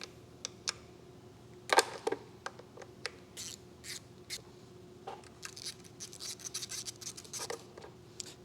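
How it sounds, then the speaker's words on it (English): 10 mm bolts being removed from a Honda F32A engine during disassembly, with scattered sharp metallic clicks, scrapes and tool ticks, fairly quiet and irregular with brief busier bursts and no talking. "we can go around and start taking off the bolts on the outside."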